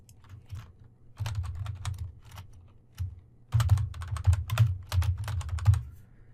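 Fingers typing on a computer keyboard, close and fairly quiet, in irregular bursts of rapid clicking separated by short pauses, with a busier run of keystrokes in the second half.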